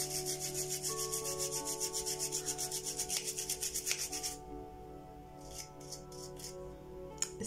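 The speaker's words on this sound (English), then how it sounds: "all you gotta do is keep on rubbing these lashes" Fingers rub cheap false eyelashes to make them wispy, giving a rapid rhythmic scratchy rasping close to the microphone. It stops partway, then a few brief rustles follow over a steady faint hum.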